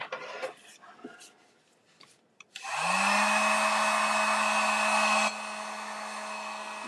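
A blower starts up after some quiet handling noises during a small house makeover, then runs with a loud, steady whine and rushing air, easing slightly in level near the end.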